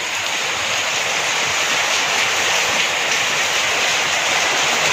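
Heavy rain water pouring steadily off a house roof during a downpour, a dense, continuous hiss and splatter close by with no voices.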